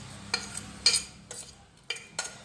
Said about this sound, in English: And now mix the mixture well